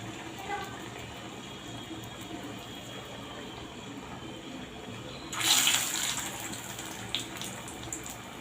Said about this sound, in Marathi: आपलं तेल सुद्धा छान तापलेलं आहे आपण यामध्ये वडा घालून घेऊ